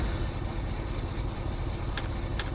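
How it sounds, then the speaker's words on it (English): A truck engine idling in the Euro Truck Simulator 2 game, hauling a Doll Vario 3-axle trailer with a Cat D7H in Great Britain: a steady low rumble throughout, with faint brief clicks near the end. "Start the engine."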